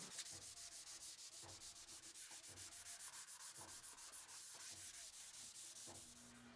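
Sandpaper rubs by hand across a guitar's clear coat in fast, even back-and-forth strokes, a steady rhythmic scratchy swishing heard close up with no talk.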